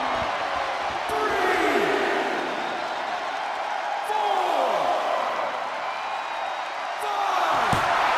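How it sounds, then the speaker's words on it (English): Arena crowd noise in the WWE 2K22 wrestling video game, a broad sustained roar with swelling cheers and whistles throughout, under a commentator's voice. "The sound of this crowd is deafening, and he's asking for more."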